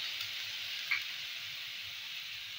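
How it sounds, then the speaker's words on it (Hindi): Carrots and chicken frying in ghee with garlic and ginger, a soft steady sizzle with a brief stir or utensil scrape near the middle and no talk. "गाजरों और चिकन को मैंने अच्छी तरह से लहसुन अदरक के साथ एक मिनट के लिए फ्राई कर लिया।"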